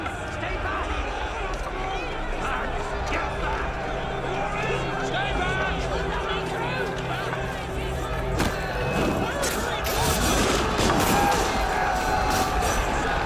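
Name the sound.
crowd storming palace with gunfire, Assassin's Creed video game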